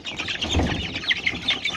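Month-old chicks of Marans, Legbar and village hen breeds peeping, a cluster of short high chirps in quick succession, close but fairly soft.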